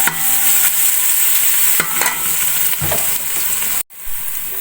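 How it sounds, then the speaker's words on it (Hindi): Steady loud sizzling of garlic frying in a pan, with occasional scraping stirs, ending with a brief clatter and a drop in the sizzle. "लहसुन को थोड़ा फ्राई कर लेंगे।"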